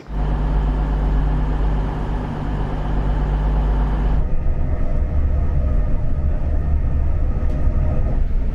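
A Luton Airport Express train runs toward London with a loud, steady rumble and rolling hum. Partway through, the tone shifts as a deep low drone drops away and the running noise continues alone.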